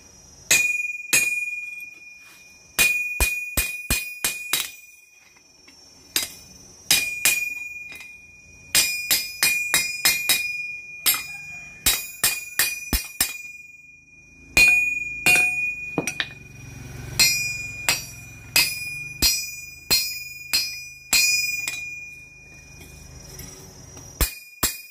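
Hammer blows ring out on a tree-felling axe head being forged, sharp metallic clanks in irregular bursts and quick rhythmic runs, each strike bright and ringing, with a low rumble of other workshop noise underneath in the later half.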